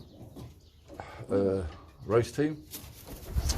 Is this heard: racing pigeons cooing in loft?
yes